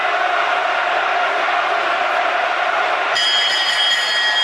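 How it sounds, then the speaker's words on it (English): A boxing crowd at Chris Eubank vs Michael Watson, with fans roaring steadily in a large arena throughout, loud and continuous, with a shrill whistle-like tone joining near the end. "the bulk of the Watson fans getting behind the Londoner."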